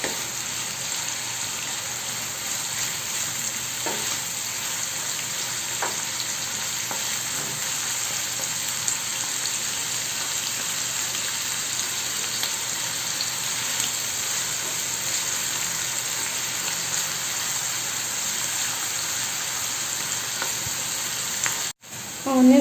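Onions, coriander and three green chilies fry in a pan, a steady, quiet sizzle that runs continuously with faint stirring scrapes, ending in a short clatter.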